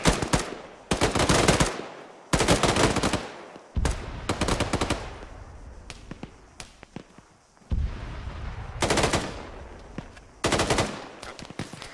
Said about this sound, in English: I'm just giving you mags to fucking shoot through. Go ahead.